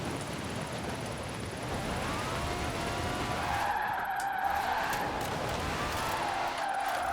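A car fitted with drift suspension slides sideways in Forza Horizon 4, its tires screeching in a loud, unbroken skid over the engine roar for the whole stretch.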